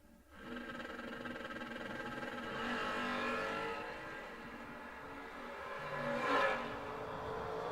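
A drag race car at a WDRA world championship at I-22 Dragway in Alabama launches and accelerates down the strip, a broad engine roar heard from a distance, swelling and fading with a brief louder surge near the end.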